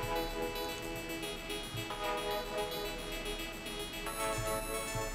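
Sustained synth pad chords with a light tremolo sit beneath a bright, plucky synth arpeggio of quick repeating notes. The electronic layers play together at moderate volume, steady and continuous, with no talking.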